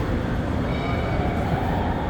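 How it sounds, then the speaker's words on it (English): A Montreal MR73 metro train in a station gives a steady, close, loud rumble of rolling wheels and motors that holds without pause, with no voices over it. "And there's an MR73, much different metro than the one we were on."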